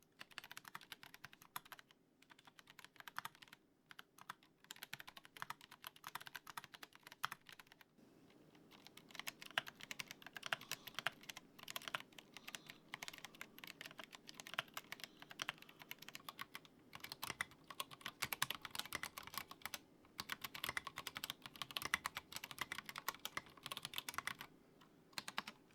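Mechanical keyboards fitted with tall MT3 and SA profile keycaps clatter under fast typing, a steady run of close, crisp keystrokes that grows busier after the first few seconds.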